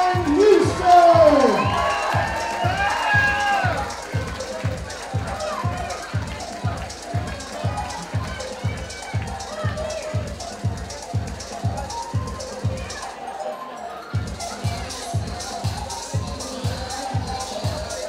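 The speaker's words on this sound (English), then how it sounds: "Can we have a big round of applause for Kieran Houston!" A crowd at an amateur boxing club event in Small Heath cheers and claps after a fighter is announced, loud at first then a sustained noisy roar with steady rhythmic thumping throughout and a brief dropout near the end.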